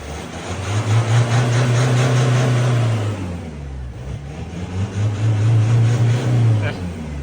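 Mazda 1.9 engine with a modified exhaust, catalytic converter delete and blocked EGR, revving hard in two long pulls that rise, hold and drop, loud and close, with a short lull in between.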